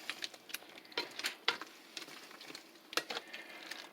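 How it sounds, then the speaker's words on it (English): Vegetable lo mein with sauce being stirred in a pan, giving soft scraping and light clinks in an irregular rhythm over a faint sizzle, close and quiet. "and give it a stir"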